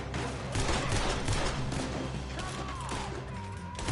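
Gunfire in a video game shootout, with dense overlapping bursts of shots in a continuous loud barrage, layered over a steady low rumble and a brief tonal sweep partway through.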